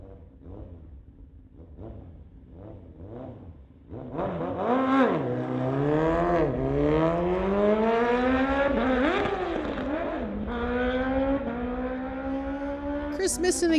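A Kawasaki ZX-10R motorcycle makes a drag racing pass at a street legal event, climbing through the gears in rising high-revving wails with a dip at each shift, loud and near after a quieter rev-up, while a commentator talks over it.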